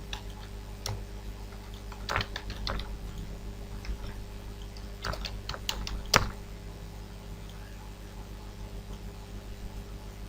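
Typing a username on a computer keyboard: quiet, sparse key clicks arriving in small bursts with pauses between, over a faint steady background hum.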